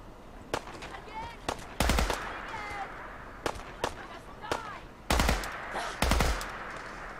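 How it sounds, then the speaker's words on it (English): Raiders' gunfire in the video game Fallout 4 sounds as sharp bursts of shots, some single cracks and some rapid volleys, spread irregularly and fairly loud, with a sparse ambient background. "What's that? Gunfire. Ah, raiders."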